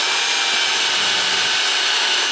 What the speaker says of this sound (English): I'm wondering if I can't sneak a little drill down there and just drill a hole in the rim